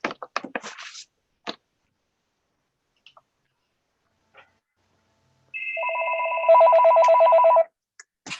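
A telephone rings during a budget committee quarterly meeting, a steady electronic warbling ring lasting about two seconds, preceded by scattered clicks and handling taps in an otherwise quiet room.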